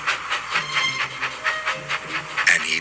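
Steam locomotive in a children's train cartoon puffing along, rhythmic soft chuffs of steam in quick even beats, fairly close, with a faint rail rumble underneath.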